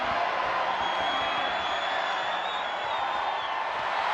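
A virtual arena crowd in the WWE 2K25 wrestling video game cheers in a steady, dense roar, moderately loud and unbroken, with no clear speech on top.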